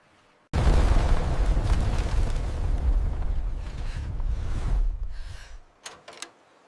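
Missile test payload striking a target point in the Pacific, a sudden deep explosive boom that rolls on as a heavy rumbling roar for several seconds, then fades out with a few sharp crackles.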